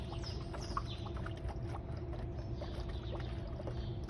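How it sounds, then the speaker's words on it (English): Liquid trickles through a funnel into a bottle for a volcano experiment, a soft gurgling pour that runs steadily, with faint chirps in the background. "use a funnel to pour it into your bottle"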